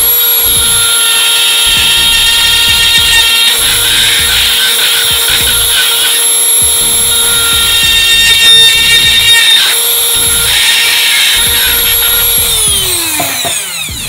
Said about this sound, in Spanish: con el taladro voy a hacer un agujero aquí